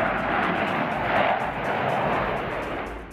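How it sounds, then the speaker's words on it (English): Navy Blue Angels jets fly over Seattle during the summer Seafair festival, a loud, steady broadband roar that holds for about three seconds with no distinct pass or fade. "It's another sound of summer in Seattle when the U.S. Navy Blue Angels arrive in the city"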